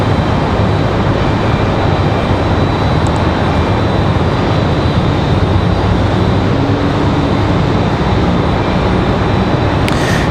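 Republic Embraer E175 regional jet arriving at Raleigh-Durham from LaGuardia, a loud, continuous broadband roar of engines and rushing air that stays strong and unbroken throughout, with no voices.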